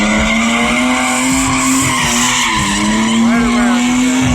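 A BMW skids at a car meet, its tires letting out a loud, sustained squeal that holds steady for several seconds and wavers slightly in pitch, with voices faintly audible in the background.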